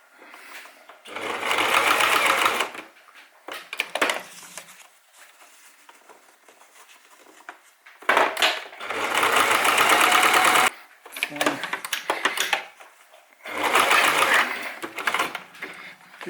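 A sewing machine stitches a wool loden carrying cover for a titanium bottle. Three long, loud runs of fast, even stitching are separated by quieter pauses with light handling noises.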